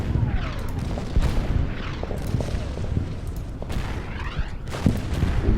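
Repeated artillery booms with whistling incoming shells in the war strategy game Order of Battle: Winter War, a steady series of heavy thuds and descending whines spread across several seconds.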